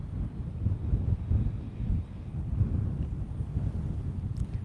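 Outdoor wind buffets a handheld camera's microphone on the dunes at Boca Chica, Texas, producing a continuous low rumbling roar with gusty swells and no speech.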